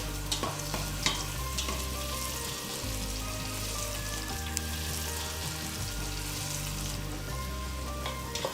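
A pan of ground coconut oil fries steadily, crackling and sizzling at an even level with scattered pops and spits, close and unbroken, with no voices over it.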